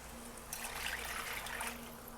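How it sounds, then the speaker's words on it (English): Two cups of water pour into a heated pan of dry macaroni, a soft, faint trickle and splash that starts after a brief pause and runs steadily to the end. "I'm going to go ahead and add in the water."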